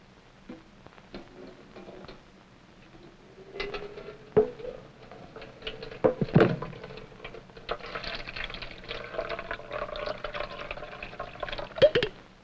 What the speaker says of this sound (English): you can probably hear already the can is beginning to crack